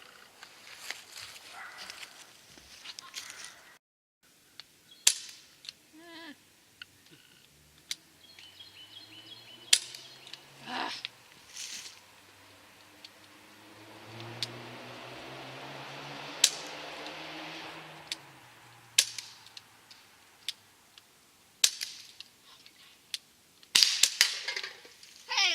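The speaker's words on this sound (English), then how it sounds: "I'd let you guys see how bad I do at my first time shooting a pistol" Pistol shots fired at backyard target practice by a first-time shooter, sharp single cracks spaced irregularly across the clip, with a few quicker bursts near the end and a steady hum in the background.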